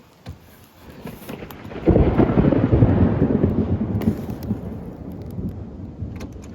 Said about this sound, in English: the thunder in Mississippi is something different